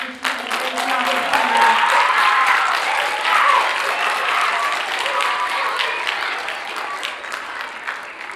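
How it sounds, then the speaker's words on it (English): Applause at a middle school Black History Month assembly: a full, steady round of clapping from the student audience filling the room, holding for several seconds before gradually thinning, with a voice faintly audible at the start. "let's give Mrs. Mapp a round of applause."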